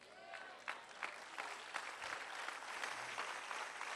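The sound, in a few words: applause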